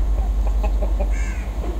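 A Brahma chicken clucks among a fancy poultry flock, giving a few short close calls over a low background hum.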